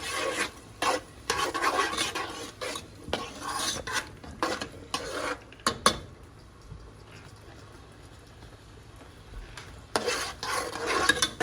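Rice being mixed in a pot for a home-cooked Latino meal, a spoon scraping and stirring in repeated rasping strokes, fairly close and steady, with a quiet pause midway before the stirring resumes.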